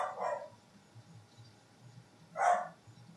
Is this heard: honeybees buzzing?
no